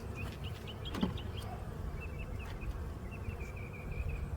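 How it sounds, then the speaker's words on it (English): Honey bees humming around a hive frame in spring, a faint continuous buzz with occasional higher whines of individual bees flying close. "Some more bees on this one."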